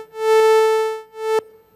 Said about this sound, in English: So we got a sawtooth wave as our carrier signal